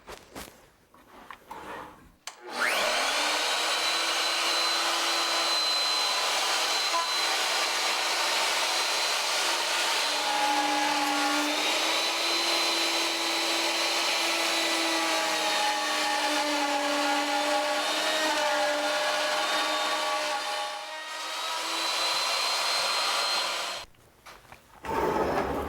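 A plunge router cuts a dado in a clamped wood piece for a dressing mirror. Once the motor starts, a loud, steady high-pitched whine runs almost unbroken for over twenty seconds, dips briefly once under load, then cuts off abruptly.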